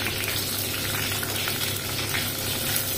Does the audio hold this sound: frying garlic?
yes